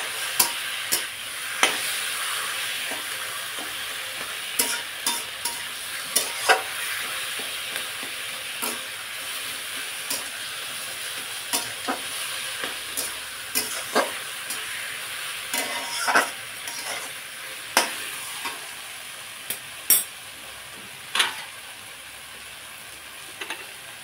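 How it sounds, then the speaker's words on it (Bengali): Young taro leaves frying with shrimp in a pan, a continuous soft sizzle broken by a steady series of spatula scrapes and clinks as the greens are stirred, with no talking. "এবার নেড়ে চেড়ে ভালো করে মিশিয়ে নেব।"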